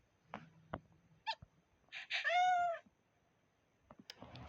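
A cat in the video game Toca Boca World meows several times, one long clear mewing cry standing out between short soft chirps and clicks, close and fairly quiet.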